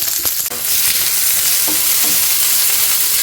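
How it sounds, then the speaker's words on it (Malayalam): Long-sliced onions dropped into hot oil with dried red chillies in a pan, giving a loud, steady, close sizzle that fills the whole stretch after a brief stir at the start. "ഇനി ഇതിലേക്ക് നീളത്തിൽ നമ്മൾ മുറിച്ചിരിക്കുന്ന ഒനിയൻ ഇടുക നമ്മുടെ സവാള"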